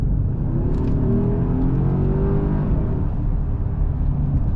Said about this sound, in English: This engine, if you have a different exhaust, will sound unbelievable.